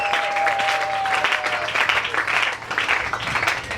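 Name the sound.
congregation applauding in church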